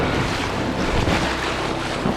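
An ocean wave breaking over a fishing kayak in winter, a loud close rushing wash of water mixed with heavy wind buffeting the microphone.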